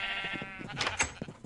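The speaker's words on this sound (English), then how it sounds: "Come on, sheep, eat faster." Sheep in the Minecraft video game bleat in a quick series of short, nasal calls, some overlapping, close and clear over a faint background hum.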